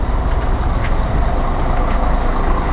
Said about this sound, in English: the buses are running